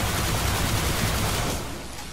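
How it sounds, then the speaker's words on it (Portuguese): The Zhalo Supercell exotic auto rifle in Destiny fires a continuous fully automatic burst, dense rapid shots at steady loudness that cut off near the end, with no talking. "Vou dar uns tiros aqui, ó, só para mostrar um detalhe."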